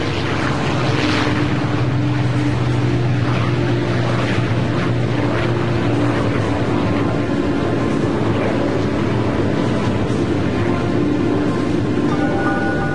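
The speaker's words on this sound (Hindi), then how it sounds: "B-29 super fortress box car ने उड़ान भरी।" A B-29 Superfortress bomber, Bockscar, takes off with a loud, steady propeller-engine drone that holds a constant rumbling hum throughout, no voices over it.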